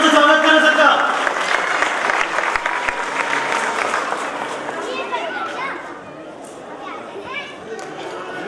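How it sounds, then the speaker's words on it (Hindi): Loud crowd applause greets a speaker at a Dr. Ambedkar Jayanti gathering, dense clapping that gradually thins and fades, with children and adults chattering underneath as it dies down. "जोरदार तालियों से स्वागत करें सर का"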